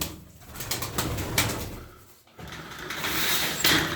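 Tumbler pigeons coo softly in a loft, a low, muffled murmur spread across the few seconds amid broadband rustle and flutter.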